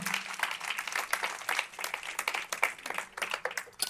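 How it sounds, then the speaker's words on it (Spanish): A church congregation claps for several seconds, a moderately loud, uneven patter of many hands with a faint voice or tone underneath. "dale un fuerte aplauso al Señor."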